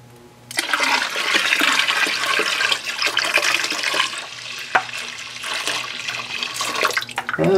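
Water gushes and splashes continuously into a home-brew kettle being topped up to ten gallons, starting suddenly and running loud and close with bubbling turbulence throughout.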